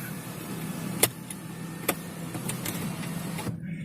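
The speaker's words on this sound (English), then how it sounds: "I want to show you something else that I like about this Maybach S560, which is the sunroof." Glass sunroof of a Mercedes-Maybach S560 motoring open inside the cabin, a low steady electric whir under faint clicks, then a final click as the motor stops, close and with no talking.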